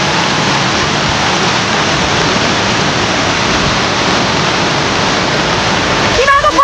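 A small waterfall, Tinchaage jharna near a village, pours with a steady, loud, close rushing roar that holds without break, with a brief voice near the end.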